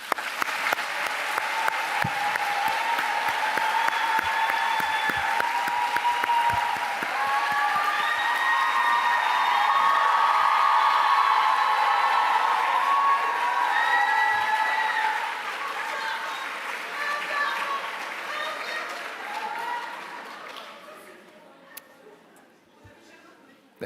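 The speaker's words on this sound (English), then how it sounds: "Please join me in a warm round of applause to all the young leaders who made these achievements possible" A large audience at a UNESCO youth creativity and well-being celebration applauds the young leaders: dense, sustained clapping that swells at first, then thins and fades out toward the end.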